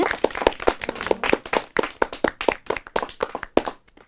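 Children clap in a quick, steady rhythm of sharp, close hand claps that continue evenly for several seconds, then stop abruptly, with no speech over them.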